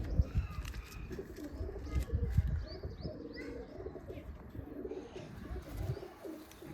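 Pigeons kept by a hobbyist coo on a rooftop, a close, continuous, rolling murmur with occasional chirps overhead.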